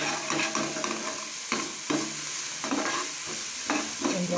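Potatoes fry in a pan for a capsicum curry, a steady close sizzle broken by repeated scraping stirs of a spatula against the pan, with no voices.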